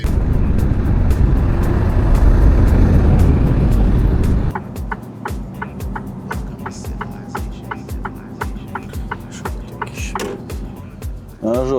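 A car drives along a road with a steady, loud rolling roar. After a few seconds the roar drops and gives way to quieter engine hum with regular ticking and thumping.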